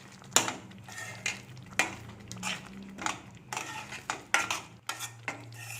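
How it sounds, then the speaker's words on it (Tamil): A spoon stirs fresh coriander into thick poori masala gravy in a pan, making a dozen or so close, rhythmic scraping and clinking strokes against the metal, with no one talking. "கொத்தமல்லி ஆட் பண்ணி மிக்ஸ் பண்ணிக்கலாம்."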